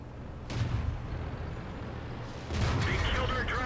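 Tank cannon fire in World of Tanks aimed at a building, two heavy booming shots about two seconds apart with rumbling tails, under a steady background hum.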